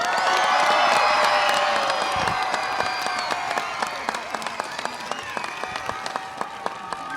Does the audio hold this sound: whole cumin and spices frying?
no